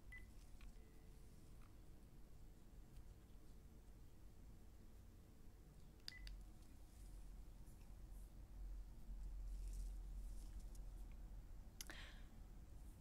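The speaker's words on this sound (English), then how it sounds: "I'm going to call myself from my landline and leave a message." A landline telephone dials out, with sparse beeps and clicks over a steady background hiss, the tones faint and near, and no talking.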